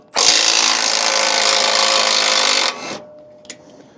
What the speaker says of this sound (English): So it works like normal ratchet, you just change directions.